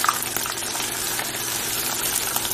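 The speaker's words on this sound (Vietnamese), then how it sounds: "Mình chỉ cần gà đã chín rồi thì mình chỉ cần chiên cho nó vàng cái da cho đẹp thôi." Chicken skin frying golden in oil that is running too hot gives a dense, steady sizzle that fills the moment on its own, close and loud without pauses.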